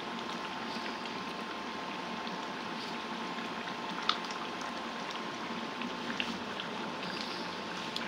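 Chicken curry bubbles in a new frying pan on an induction stove, a steady close simmer of soft popping bubbles with a few sharper pops and no talk.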